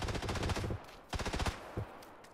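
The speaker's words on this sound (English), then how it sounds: "Our teammate's shooting at him." A teammate's automatic rifle fire in PUBG: a rapid burst, a short pause, another burst and a single trailing shot, loud and close, with no talking.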